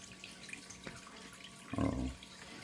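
Water from a gold dredge gushes in a short loud burst after a quiet stretch with a few faint drips, the flow running under a low motor hum.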